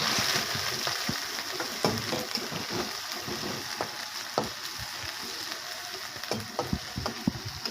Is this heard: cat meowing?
no